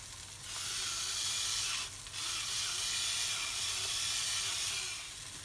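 Veal escalope sizzling in a hot pan, a steady, close frying hiss running throughout with a brief dip near the two-second mark, no voices.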